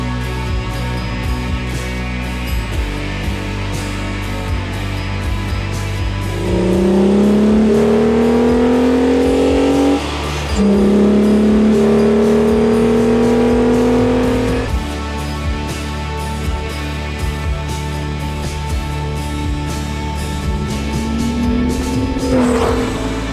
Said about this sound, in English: So if an MG ZS180 is something you like the sound of